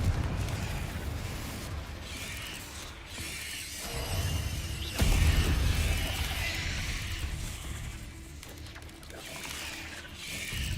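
Confringo blasting spell cast in the video game Hogwarts Legacy: dense, crackling magical blasts over rumbling game action, with a loud burst near the middle and continuous noisy effects throughout.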